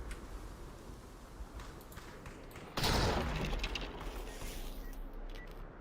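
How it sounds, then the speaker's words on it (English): Gunfire in the VR shooter Population: One during a duos tournament match, a sudden loud burst of shots after a quieter stretch of footsteps and movement, then continuing rattling fire in the background. "And someone is shooting"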